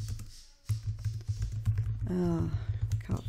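Computer keyboard typing while writing a Java program, quick irregular key taps close up, with someone talking over much of it.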